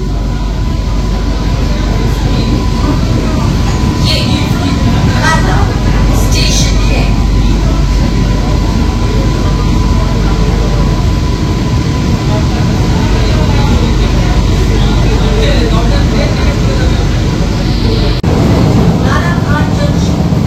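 An air-conditioned Sealdah–Ranaghat local train on its inaugural special run in West Bengal rumbles steadily along the rails, with a loud, continuous low roar and clatter throughout and faint voices beneath it.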